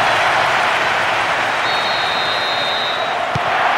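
Stadium crowd in the football game Winning Eleven 2008 sends up a broad, loud cheering wash after a late goal, steady throughout with a thin whistle-like tone and a brief thump near the end.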